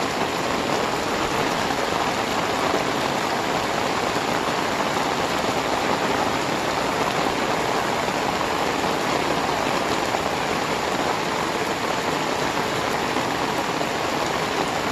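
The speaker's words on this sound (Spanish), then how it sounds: "Solo háganse una idea lo fuerte que está lloviendo" Heavy rain pours down under fully overcast skies, a loud, unbroken roar of drops hitting surfaces that holds steady throughout, with no voices.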